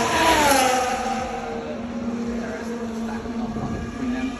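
Formula 1 race cars with V6 engines pass at the Miami Grand Prix, a loud, high engine whine that sweeps down in pitch as a car goes by, followed by a sustained droning tone heard trackside.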